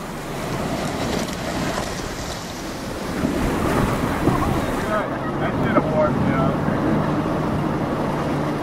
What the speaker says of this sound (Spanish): Los rápidos de la Upper Granite Gorge, uno de los más peligrosos del cañón.